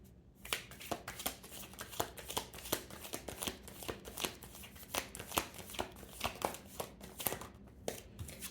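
Tarot cards are shuffled by hand in a rapid series of crisp riffling flicks and soft taps, close and quiet, with no one speaking.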